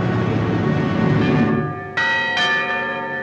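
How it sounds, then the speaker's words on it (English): Church bells ringing in 1940s Britain, a dense wash of overlapping tolls with fresh clear strikes cutting in near the end, loud and unaccompanied. "Once more, the people of Britain heard their church bells ring."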